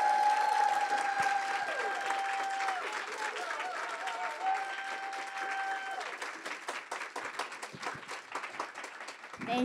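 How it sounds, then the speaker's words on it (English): Applause for Kate Nicholson at a conference opening session, a crowd clapping steadily and moderately loud, mixed with a few voices and tonal ringing early on, with individual claps growing more distinct as it thins toward the end. "you have to give the loudest round of applause to Kate Nicholson"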